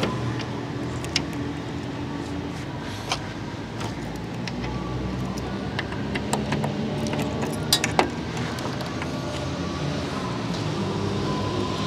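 Keys jangle while the trunk of a 1960s-style Fiat 1100 D is being opened, with light metallic clinks scattered through steady outdoor traffic-like background noise.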